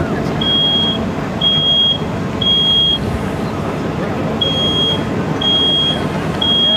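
Smoke detector alarm in a fire-company flashover simulator beeping in steady, evenly spaced high-pitched bursts, about six repeats, over a constant low rumble of engines and crowd noise.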